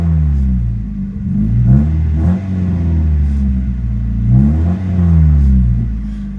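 A 1992 Mazda Miata MX5 with a faulty fuel relay idles close by with a steady rumbling drone, rising in a few light revs and dropping back, with no talking.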